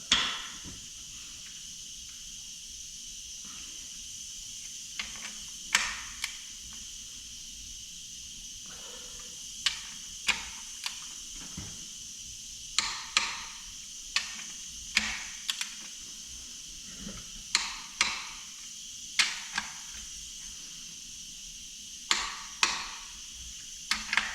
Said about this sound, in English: we'll torque these down to 130 foot-pounds